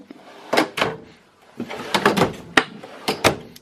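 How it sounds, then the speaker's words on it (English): Cabinet doors and drawers in a 2018 Jayco Precept 36T Class A gas motorhome are shut one after another, a string of sharp thuds and knocks with brief sliding sounds, close and loud, with no talk. "Let me close all this so we can get to it."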